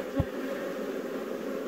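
Honeybees buzzing steadily around an opened hive during a beekeeping inspection, a dense continuous hum filling the background with one brief louder thump near the start.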